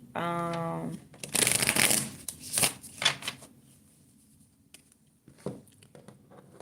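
Tarot cards being shuffled, a riffle of quick papery flutters repeating in bursts, close and fairly loud, with a faint voice at the very start and quieter card handling trailing off.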